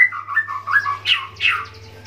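Caged birds at a bird market kiosk, including konin birds, chirping and whistling in quick, close, loud calls with short trills, over a faint low hum and no talking.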